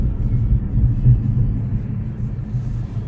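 A new car drives along with a steady low engine and road rumble from inside the cabin, continuous and fairly loud.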